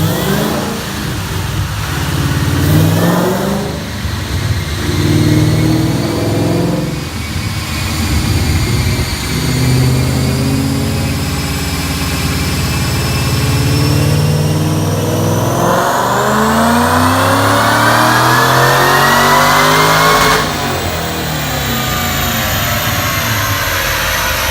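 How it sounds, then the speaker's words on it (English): A Brenspeed-upgraded Ford GT500 Mustang with TVS supercharger, Stage 3 power package and free-flowing exhaust runs a dyno pull, its engine revving loud and close, climbing in pitch through long sustained pulls with a supercharger whine rising above. "Let's make a dyno pull and take a closer look."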